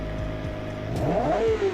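A twin-turbo V8 car engine in the BeamNG driving game revs up and down in quick, rising sweeps, the pitch climbing sharply near the end of a short burst.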